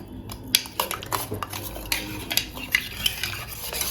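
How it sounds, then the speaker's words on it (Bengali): A spoon stirs custard powder and sugar into raw milk, clinking and scraping against the vessel in quick irregular strokes. "এবার ভালো করে এটা মিশিয়ে নেব।"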